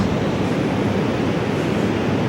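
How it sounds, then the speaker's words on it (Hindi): Sea waves break on the shore in a loud, continuous roar of surf that stays steady throughout, with no voices over it. "जिसकी याद में ये लहरें गिन रही हो"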